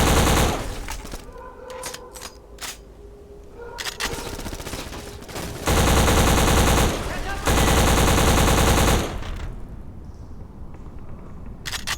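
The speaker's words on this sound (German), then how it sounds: "Maschinenpistole." Submachine gun fire in an older-style shooter game: long rattling automatic bursts that swell into loud sustained streams, broken by pauses and scattered single shots, with no voices.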